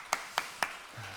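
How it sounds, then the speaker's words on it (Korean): Three separate hand claps ring out at a steady pace in a church during a Sunday service, as the congregation claps in thanks to parents, fairly faint and spaced apart. "우리 어버이들께 감사의 박수 다시 한번 진심을 올려드리겠습니다"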